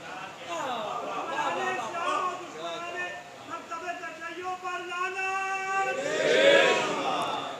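A crowd chants slogans in unison at a Muharram majlis, with drawn-out, tonal group voices rising and falling in waves and a louder collective swell near the end.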